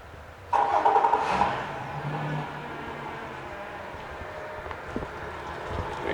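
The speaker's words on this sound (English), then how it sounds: "Go ahead and fire this one up here." A 2009 Yamaha 75hp four-stroke outboard boat motor cranks briefly, then catches and settles into a steady, fairly quiet idle nearby.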